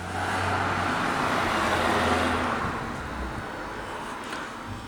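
A car rolls close by at steady volume, a broad engine and tyre roar swelling slightly then easing as it drives over a Nokia Lumia 530 phone, with no talk.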